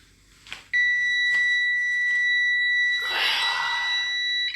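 A smoke alarm sounds a loud continuous high-pitched tone, starting abruptly after a few faint knocks, with some rustling noise partway through.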